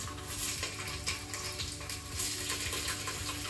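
Sausages browning in a hot pressure cooker pot give a continuous close sizzle with crackling spits and a few soft stirring knocks.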